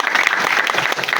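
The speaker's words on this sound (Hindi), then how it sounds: "इसके लिए जोरदार ताली हो।" A short burst of dense, steady clapping from a college debate competition audience, fairly loud and continuous.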